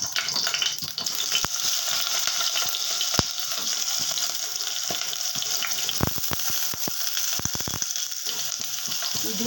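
Diced, washed eggplant pieces go into hot oil, making a loud, continuous sizzle with sharp pops and crackles scattered throughout, especially in a cluster toward the end.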